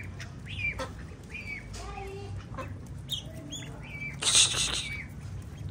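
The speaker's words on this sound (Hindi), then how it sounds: "बड़े वाली डक आ गई है, मारती है बच्चों को।" Adult ducks and ducklings crowd around pieces of watermelon, giving several short quacking calls spaced through the moment over a steady low background murmur, with one louder, harsher burst near the end.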